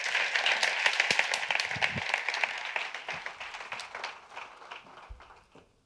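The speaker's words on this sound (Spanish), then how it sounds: "Un fuerte aplauso para él también." Audience applause at a book project presentation event, a dense patter of many hands that is loudest at the start and gradually thins and fades over several seconds, with no one talking.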